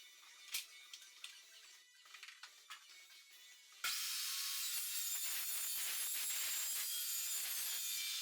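Abrasive saw cutting steel stock for a welding table: faint scraping and knocks, then a loud, steady, harsh grinding whine that holds without a break until it stops abruptly.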